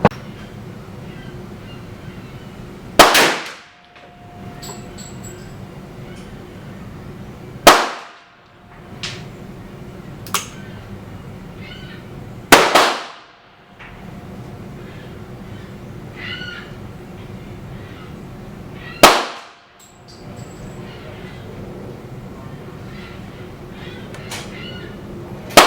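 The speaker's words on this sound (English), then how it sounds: "Let's shoot some at 25 yards and see what happens with groups at 25 yards" Four loud, sharp pistol shots at a shooting range from 25 yards with a rest, spaced several seconds apart, each followed by a brief decay, with faint background noise between them.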